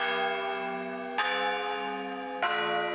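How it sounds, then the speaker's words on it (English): A cashmere bell sound from an FL Studio rage beat rings out in three sustained, evenly spaced strikes, each bright tonal hit decaying into the next, clear and alone. "First is this cashmere bell."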